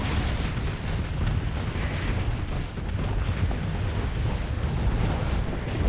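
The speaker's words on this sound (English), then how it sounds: "so many things exploding" Many things exploding at once in a space video game, a dense, continuous rumble of overlapping blasts and booms filling the whole stretch with no clear gaps, steady and loud throughout.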